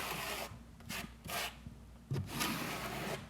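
A notched 1/8 by 1/8 inch trowel combs thin-set mortar during shower tile installation, giving repeated rough scraping strokes in short bursts, close and fairly quiet, with no talking.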